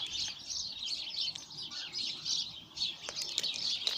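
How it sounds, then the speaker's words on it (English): Sparrows in a bush chirp busily and close by, a dense run of overlapping high tweets with a few sharper calls near the end. "Sorry birdies, disturbing all these sparrows that live by here in this bush."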